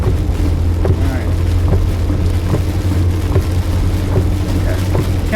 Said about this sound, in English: We're almost there into the wind, into the main wind.